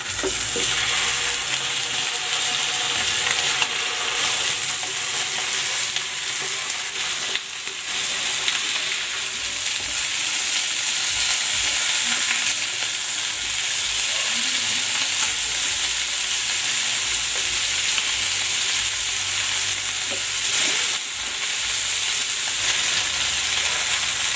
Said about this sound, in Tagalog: I-sear ko muna itong chicken.